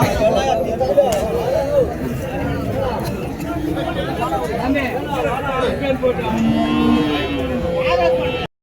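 Cattle, including HF heifers, mooing at a busy cow market in Orappam: several drawn-out moos rise over a constant crowd hubbub, and people talk nearby throughout.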